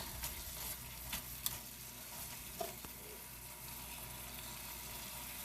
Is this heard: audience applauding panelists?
no